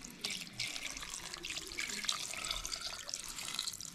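Water poured from a container into a dough mixture for a traditional village recipe, a steady close trickling splash running throughout with no talk.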